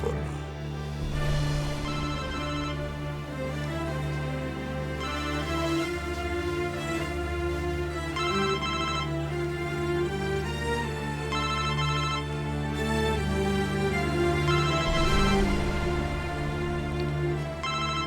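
A telephone in a Turkish comedy series scene rings with a continuous, melodic ringtone that repeats steadily and stays fairly loud for a long stretch, with no break in the tone.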